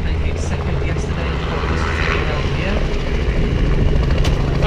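A helicopter flies at an air show, lowering a buoy into drums during a competition, its rotor and engine drone holding steady and loud throughout with a faint rhythmic chop beneath.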